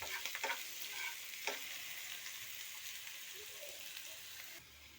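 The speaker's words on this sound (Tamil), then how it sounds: "ஒரு பச்சை மிளகாய் இந்த எண்ணெயில் நல்லா பொன்னிறம் ஆகும் வரை நல்லா வதக்கிக்கோங்க" Onion and green chili sautéing in oil make a soft, continuous sizzle with a few scraping stirs near the start, faint and close, with no voices.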